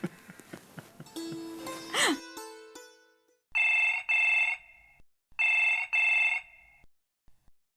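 A telephone rings indoors in a Marathi TV drama scene. Two crisp double-ring bursts follow a brief musical tone, separated by clear pauses.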